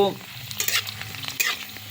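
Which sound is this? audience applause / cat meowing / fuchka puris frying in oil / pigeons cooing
fuchka puris frying in oil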